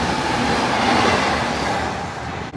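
Train passing by in Tokyo, a loud continuous rumbling roar with a rushing wash that holds steady and then fades slightly near the end, heard close with no talking.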